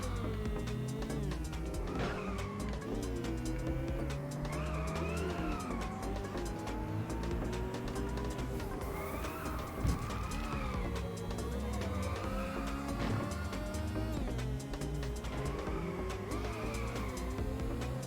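A car drifting in the Inertial Drift racing game, its engine droning and revving while tires squeal in long sliding whines through corners, continuous and loud, with game music underneath.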